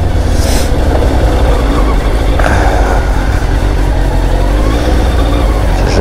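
A loud, continuous engine rumble with steady wind noise, like a motorcycle running while riding.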